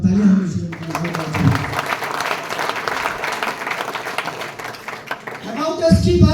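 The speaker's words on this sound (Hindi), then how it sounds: "एक बार तालियां हम इसी के लिए" An audience at a seminar breaks into loud, dense, sustained applause lasting about five seconds, with a voice speaking just before it starts and again as it dies away.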